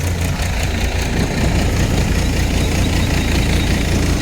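A Nataraj Harbam model 2024 thresher engine works pearl millet at high rpm, giving a loud, steady, close-up roar with a heavy low rumble and constant mechanical clatter throughout.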